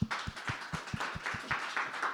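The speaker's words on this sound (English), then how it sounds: "You can clap." At an open mic poetry night, audience hands clap in a quiet, evenly spaced rhythm of roughly four claps per second, soft and somewhat distant.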